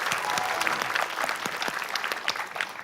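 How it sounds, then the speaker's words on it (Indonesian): Applause for Deanda, a full, lively burst of many people clapping with crisp individual claps audible in the mix, sustained for the whole stretch without talk. "tepuk tangan untuk Deanda."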